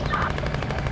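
Rapid automatic gunfire from the video game Battlefield: Bad Company 2 on the Isla Inocentes map, a loud, dense burst of shots lasting about a second with no talk over it.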